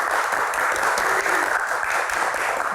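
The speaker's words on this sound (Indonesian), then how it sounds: "Tepuk tangannya mana teman-teman?" Studio audience at an Indonesian Q&A talk show applauding, a dense, steady wash of many hands clapping at once, loud and sustained throughout without a break.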